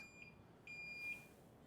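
Three short, high electronic beeps from a meter's buzzer during its startup self-check, spaced irregularly over a quiet background hum.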